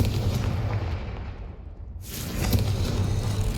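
In the Hogwarts Legacy video game, a Confringo blasting spell goes off with a deep rumbling whoosh, briefly dips, then erupts into a loud, booming explosion that rolls on to the end.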